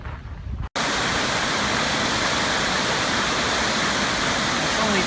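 Miners Falls at Pictured Rocks in Michigan's Upper Peninsula pours as a dense, steady roar of falling water that fills the scene after a brief quieter opening, loud and unbroken throughout.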